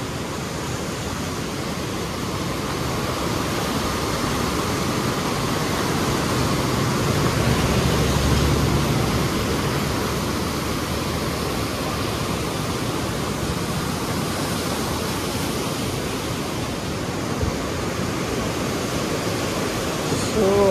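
Floodwater roars through the 45 open gates of the Koshi barrage at high water level, a steady, dense rushing wash that holds loud and unbroken throughout.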